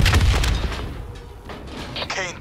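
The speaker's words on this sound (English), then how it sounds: "It was an explosion." An explosion in the Black Ops 3 campaign lands as a loud deep boom that rolls off into rumbling debris, followed by sharper impacts and game effects.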